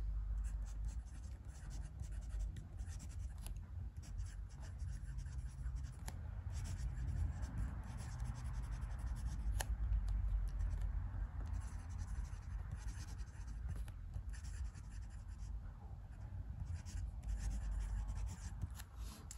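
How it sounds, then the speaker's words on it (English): A Franklin Christoph Model 31 Omnis fountain pen with a broad nib, loaded with Monteverde Rose Noir ink, writing on paper: quiet, steady scratching strokes with brief pauses, faint and close, no talking. "let's do some writing."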